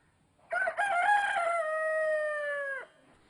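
A rooster with a long tail and a comb, kept at a home in Irinavu, Kannur, gives one loud, close crow that rises and then holds a long drawn-out note before cutting off, alone in a quiet setting.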